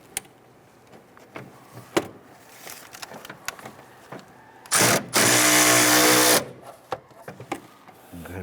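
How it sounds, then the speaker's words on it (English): A ratchet with a swivel and 10mm socket working a bracket bolt on a 1999-2004 Jeep Grand Cherokee, scattered clicks and taps followed by a loud, close burst of rapid ratcheting lasting about two seconds. "Remove this bolt on the back side of this bracket using our swivel"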